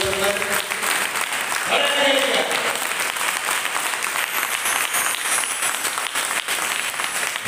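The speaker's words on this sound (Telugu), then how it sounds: "గట్టి చప్పట్లు కొట్టుకొని ఎలా కూర్చోగలుగుతున్నారు?" Sustained applause from a church congregation at a Catholic festival, a dense, even clapping that fills the whole stretch with faint speech beneath.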